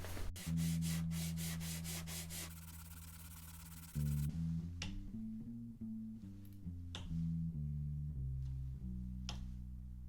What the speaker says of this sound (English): I'm here sanding away at this board. I am just working on 400 grit now.